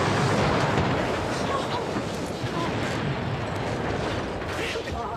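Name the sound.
explosion of a batch of hair tonic, TV sitcom sound effect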